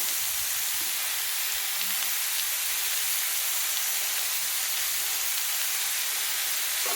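Chopped papaya frying in a pan, giving a steady, loud sizzling hiss that stays even from start to finish with no voices.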